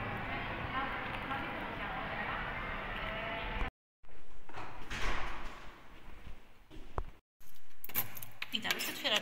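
Keys jangle and rattle continuously for several seconds as a door is unlocked, followed by brief pauses and clattering handling sounds.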